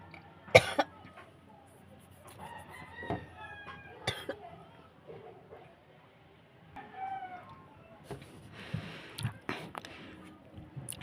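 Someone coughs several times, sharp and close bursts scattered between quiet moments, with faint voice-like sounds among them.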